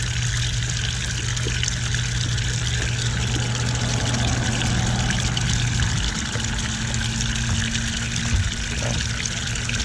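Aquaponics siphon draining water from a grow bed, a steady close rushing and gurgling flow with a low hum underneath, continuous throughout with no talk.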